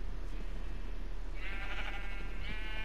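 Sheep in Minecraft bleat twice, a wavering, harmonic game bleat at moderate volume over a low steady background hum, with no talking.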